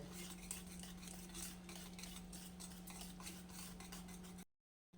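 Cabbage and egg mixture being whisked, a continuous quick scraping and tapping against the bowl over a steady low electrical hum, close and quiet, cutting off abruptly at the end.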